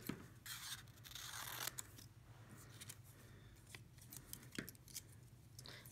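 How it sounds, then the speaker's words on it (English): Scissors snip paper shapes for a toilet paper roll pet craft in a quiet indoor setting, a steady series of close, crisp cutting and rustling sounds with no talking. "get our scissors back, and we're going to cut these out."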